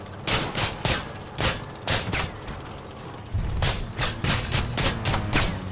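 Repeated heavy shotgun blasts from a vehicle build in the Crossout combat game, about a dozen loud booming reports in uneven bursts over continuous battle rumble.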